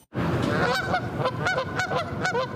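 Canada geese honk repeatedly on a university campus during nesting season, a rapid series of nasal calls from several birds, close and loud, with no speech.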